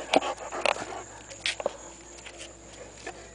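A dog breathes and pants in short bursts close by, with a few soft whimpery sounds and faint movement around it.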